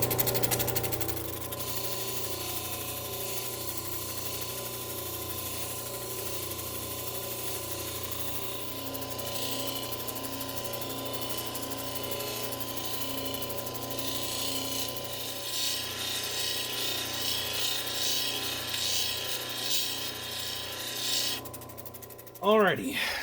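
An augite stone is pressed against a spinning 1200 polishing wheel, giving a steady mechanical whir and grinding drone that rises into a brighter scraping hiss partway through and stops abruptly at the end, with faint voices underneath.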